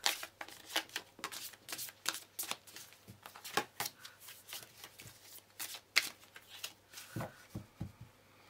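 A deck of tarot cards is shuffled up close, with rapid riffling and slapping bursts in an uneven rhythm that carries on throughout, fairly loud and with no one speaking.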